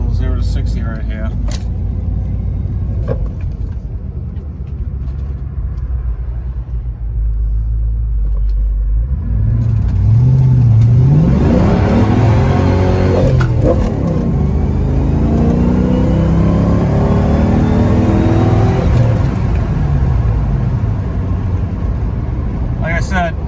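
A Fox Body Mustang idles with a deep rumble, then launches hard from 0 to 60 with brief tire spin on a cold day, the engine rising loudly through its revs up close as a voice talks over it.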